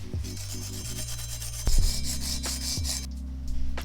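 A Honda Rebel brake rotor is scrubbed clean by hand, with close, rasping rubbing strokes in short bursts, a few sharp knocks and a brief pause near the end.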